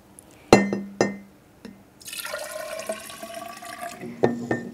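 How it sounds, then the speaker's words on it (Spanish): Water is poured into a glass graduated cylinder for estimating mineral volumes: a few sharp glass knocks, then a steady splashing pour that rises in pitch as it fills, closing with more clinks, close and alone. "vamos a rellenar de agua esta probeta"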